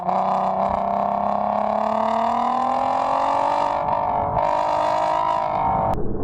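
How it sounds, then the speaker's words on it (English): A 2008 Volkswagen R32 U.S. Edition on a track, its exhaust note rising steadily through a corner as the throttle is held on, loud and continuous before cutting off abruptly near the end. "Amazing exhaust noise and throttle control through the corner."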